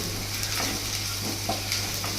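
Garlic and onion fry in a pan with a steady, close sizzle and occasional stirring scrapes, continuous and without speech.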